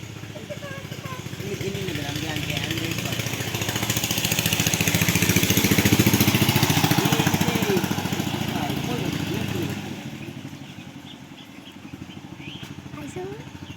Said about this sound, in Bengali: দেখো গাড়ি আসছে